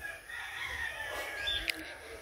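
A rooster crows once, fairly quiet and somewhat distant, in a village yard.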